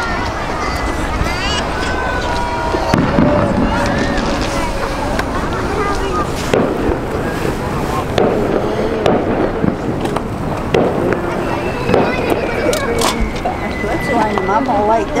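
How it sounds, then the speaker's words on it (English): Amateur fireworks set off by people on a bridge above the Newport, Oregon marina, heard from beneath the span: repeated sharp bangs and crackles with echoing tails, scattered irregularly over steady crowd chatter and voices nearby. "Listen to the echo that comes from these fireworks."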